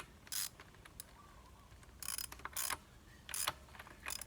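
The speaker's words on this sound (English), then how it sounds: "Got our axle nut. Get it finger tight. Got my wrench." A wrench tightens the axle nut on a KTM 690 motorcycle, giving several quick bursts of close ratcheting clicks separated by short pauses, with no speech.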